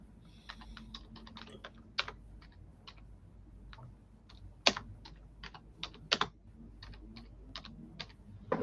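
Close, quick keystrokes on a computer keyboard, clicking in uneven bursts with a few sharper, louder taps and short pauses between runs.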